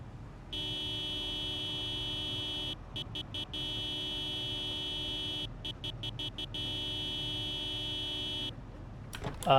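Car horn honked in a zombie survival game, three long, steady blasts separated by brief gaps over a low rumble, ending with a short burst of other noise.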